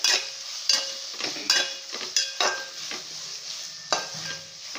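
Pineapple pieces frying fast over high heat with fish, a close crackling sizzle broken by repeated sharp spatula scrapes and clinks against the pan, no talking.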